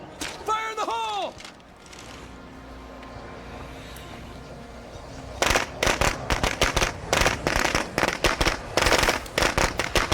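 Explosive blowing up a zombie infestation in a shed in State of Decay 2, followed by a series of sharp, crackling bursts and pops in rapid, irregular succession, loud and close after a short rumbling lead-in.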